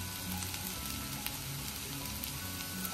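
Onion with salt crackles and sizzles in a hot pan in a dense, even hiss, close and continuous, with no talking over it.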